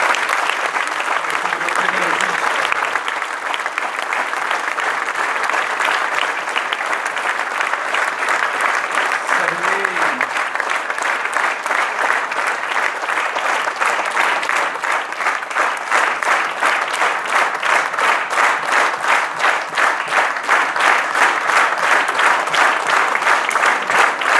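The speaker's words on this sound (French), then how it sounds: "du sénateur Jean-Pierre Leleu, que vous pouvez applaudir de toutes vos forces" Sustained applause from a ceremony audience honouring a senator at a UNESCO celebration in Grasse, dense and steady for the whole stretch, with brief faint voices rising above it near the start and around the middle.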